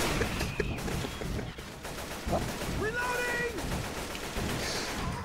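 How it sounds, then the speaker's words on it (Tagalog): Bursts of gunfire crackle through a busy Left 4 Dead 2 soundscape, with rapid shots and a brief whining tone in the middle, steady and fairly loud throughout. "Parang may bumabaril sa akin."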